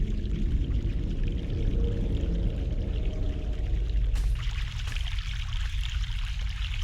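Steady rushing and pouring of fresh mountain water in The Longest Journey game, a continuous close stream that holds even and dense throughout, with a slight shift in texture near the end.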